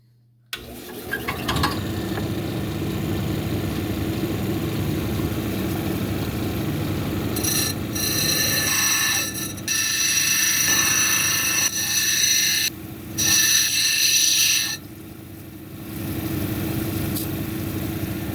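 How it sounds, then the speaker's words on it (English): A lapidary grinding wheel with 80 grit grinds a silver lace onyx cabochon. The motor hum is steady and close, and brighter, harsher grinding passes come and go as the stone is pressed against the wheel. "So we'll grind it down the line. We'll start with the 80 grit, the 220, and then I'll hit it with the 280."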